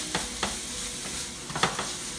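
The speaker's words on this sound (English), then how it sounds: "Alright guys, so my veggies been sauteing down." Vegetables sauté in a pan with a soft, continuous sizzle, broken by a few sharp scrapes and clacks of a stirring utensil, close and fairly quiet, with no voices.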